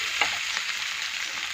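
Egg being mixed and fried in a pan for homemade noodles, producing a steady soft sizzle with a couple of brief stirring scrapes, close up and with no voices.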